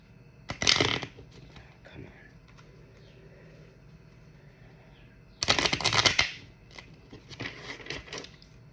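A small tarot card deck is shuffled in two loud bursts of riffling, one early and one later, with quieter handling and rustling in between.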